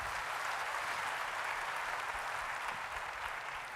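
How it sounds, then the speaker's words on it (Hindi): Steady applause from an event audience, a dense continuous wash of hands clapping that fills the whole stretch without a break and with no talk over it. "एक बार उनके लिए जोरदार तालियां होनी चाहिए"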